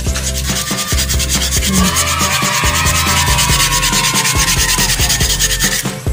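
Steady rhythmic rasping of sandpaper rubbing back and forth over a Honda Beat FI scooter's panels before repainting, close and continuous for several seconds.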